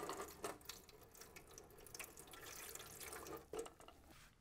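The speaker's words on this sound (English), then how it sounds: "What I'm going to do is pour a little bit in there, halfway up the valve stems a little bit" Tubeless bike sealant is poured into Presta and Schrader valve stems, giving a faint, steady trickle and splash of liquid with a few soft drips and knocks. No one speaks.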